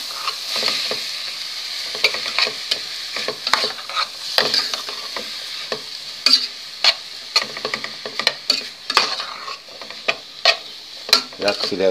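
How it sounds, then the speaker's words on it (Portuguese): Tilapia fillet sautéed in a pan with onion, garlic and pepper, a steady close sizzle broken by repeated scraping and stirring clicks of a utensil, with no voices. "Vamos entrar com o filé da tilápia agora, certo?"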